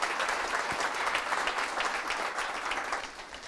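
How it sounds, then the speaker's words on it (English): An audience at a ReactJS Denver developer meetup applauds a speaker, steady clapping from a crowd filling the whole stretch at even loudness, fading slightly at the end. "Let's give Dan a round of applause."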